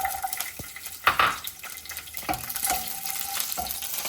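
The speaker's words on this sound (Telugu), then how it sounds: "ఇప్పుడు వెల్లుల్లి వేస్తున్నానండి" Garlic sizzling in about two tablespoons of oil in a kadai, a steady crackling fry with a few louder clatters and stirring scrapes, close and without talk.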